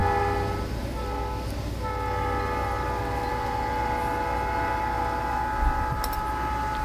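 A train rolls by at a steady rumble, its horn sounding in long sustained blasts from fairly close. The noise is continuous throughout, with no speech.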